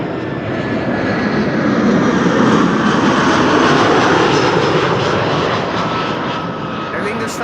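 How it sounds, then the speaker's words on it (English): Aer Lingus Airbus A320 arriving at Amsterdam Schiphol from Dublin, a broad, steady jet engine roar holding loud and close throughout, swelling slightly mid-pass, with a voice speaking over it. "Air Lingus Flight 604 arriving from Dublin. That's an A320."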